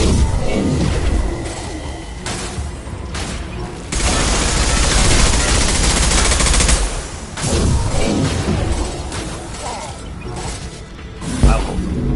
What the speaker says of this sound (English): Attacking target. Firing a high-impact shot.